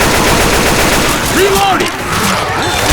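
Dense automatic gunfire from Left 4 Dead 2 fills the whole stretch, sustained loud bursts layered over game ambience, with brief shouted character callouts mixed in.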